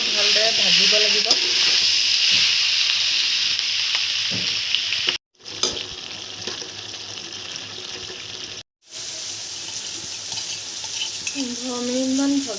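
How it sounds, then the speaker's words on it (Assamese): Meat sizzles steadily in hot oil over browned onions while being stirred for an Assamese non-veg dish. A loud continuous hiss fills the pan, with two brief dropouts and faint scraping. "ভালদৰে ভাজিব লাগিব।"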